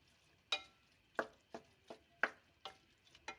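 A spoon stirring keema curry with onions, tomatoes and ginger-garlic paste in a pan, giving about eight soft, evenly spaced scrapes and clinks over a faint background.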